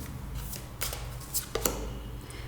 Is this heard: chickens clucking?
no